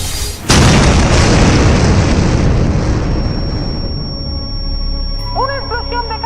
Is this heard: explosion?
yes